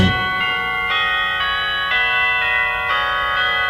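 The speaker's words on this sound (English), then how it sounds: "Or was it the bells from the village below?" Bells ring out in a steady, slow sequence of bright, resonant strikes, each tone sustaining and overlapping the next, close and fairly loud.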